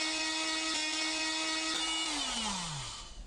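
An oscillating multi-tool runs against Pergo Outlast laminate flooring, a steady high buzzing whine with strong harmonics that holds for a few seconds and then winds down as the tool slows to a stop.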